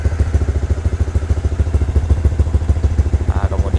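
A warmed-up motorcycle engine idles steadily during Juken 5 ECU tuning, giving a close, loud, even pulsing rumble with a regular mechanical tick and no speech over it.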